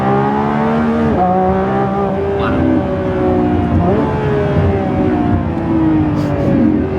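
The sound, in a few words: Lamborghini Revuelto V12 accelerating in Performance mode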